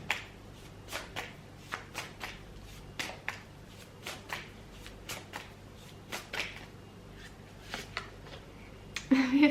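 Tarot cards being shuffled, handled and drawn from a pile, a series of crisp riffling flicks and snaps repeating every second or so, close and fairly quiet, with a soft rustle between them.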